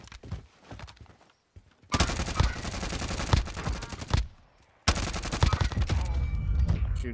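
Gunfire in Call of Duty Warzone, loud dense bursts of automatic fire in two long volleys with a brief lull between, preceded by quieter scattered shots.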